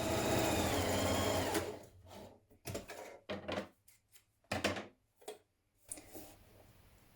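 A sewing machine stitches a seam on a cardigan using a stretch stitch: a steady run first, then a series of short bursts separated by pauses, all close up.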